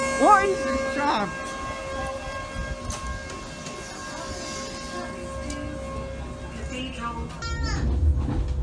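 Sheffield Supertram running in the city, a steady low rumble of wheels on rail with a brief warning tone near the end, while people talk over it.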